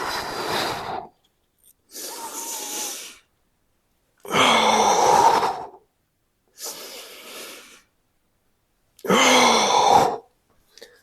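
Five forceful, drawn-out breaths, mostly exhales, come in a steady rhythm with short silences between them during a lateral shoulder blade protraction exercise done against the floor. They are close and fairly loud.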